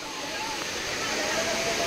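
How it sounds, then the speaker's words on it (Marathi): Waterfall near Karla Bhaje, a steady broad rushing roar of falling water, continuous and fairly close, with faint background noise and no clear speech. "वाटेमध्येच धबधबा आपला वॉटरफॉल"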